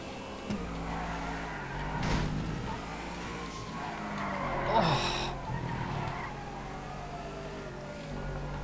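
A 9F car in GTA FiveM skidding from oversteer during a race, a tire squeal rising under a steady engine drone with a few short squeaks, moderately loud and continuous.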